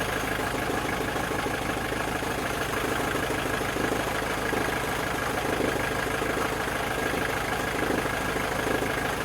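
An engine runs steadily at idle and fails to shut off, a constant droning rumble with a faint knocking texture, close and unbroken throughout with no talking.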